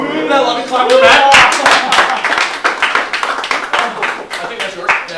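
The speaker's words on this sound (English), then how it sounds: "That loving clap for Matt." Clapping hands from a group of people giving a round of applause for a friend, with dense overlapping claps sustained throughout under cheering voices and chatter.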